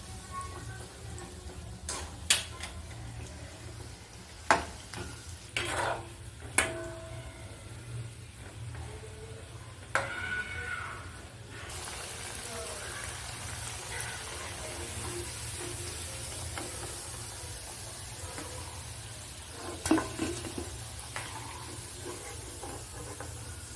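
Jeet vadas deep-frying in oil over a low flame, a soft continuous sizzle and hiss held steady at low level with occasional clicks and clinks of utensils, close and without talk.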